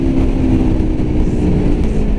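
A 2017 Aprilia Tuono V4 1100 motorcycle engine given a little gas, a loud close continuous growl with slight rises in revs, no one speaking.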